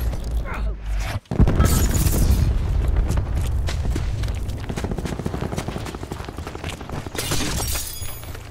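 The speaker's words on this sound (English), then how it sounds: "Throwing cluster grenade." Cluster grenade in Call of Duty Black Ops 4 multiplayer, heard as a sharp blast followed by a dense rattle of loud overlapping detonations and debris that taper over several seconds.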